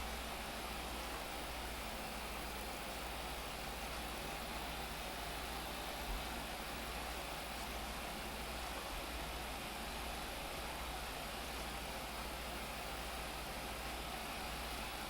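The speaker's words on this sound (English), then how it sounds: "Not bad for a little 20-horse tractor" A small 20-horsepower tractor in Farming Simulator 25 idles steadily, a constant dense engine drone with no change in rhythm for the whole stretch.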